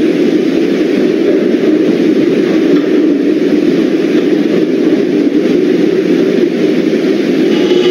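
Subway train on an R local service toward 39th Street running in the Roblox game, a steady loud low rumble and hum that continues throughout without a break.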